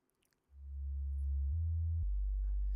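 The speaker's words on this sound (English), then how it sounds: "I'm going to play this oscillator out loud" A lone synthesizer oscillator drones as a steady low sine-like tone, set up for a dark, filtered atmosphere; it swells in loudly, then jumps to a new pitch twice, ending on a buzzier, richer tone.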